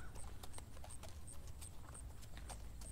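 Horse hooves clip-clop steadily while riding, an even rhythmic sequence of crisp hoof strikes at moderate distance over a low background rumble.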